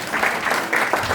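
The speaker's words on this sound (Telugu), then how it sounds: "క్లాప్స్ కొట్టండి అందరూ." A classroom of junior kids breaks into a short burst of group clapping, quick and close, lasting only about a second.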